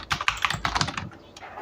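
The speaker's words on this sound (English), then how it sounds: "type first number" Quick burst of clacking keystrokes on a computer keyboard, close and crisp, fading to a quieter tap or two after about a second.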